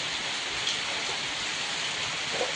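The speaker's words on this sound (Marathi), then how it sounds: "चांगला पाऊस पडलाय बघा" Steady, dense rain pours down without a break, a close, even hiss of drops hitting the ground and surfaces, with no voices or other sounds over it.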